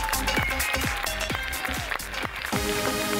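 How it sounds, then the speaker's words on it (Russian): Theater audience at a KVN comedy contest applauding steadily through the whole stretch, a broad clapping wash mixed with loud plucked stage music. "Ваши аплодисменты!"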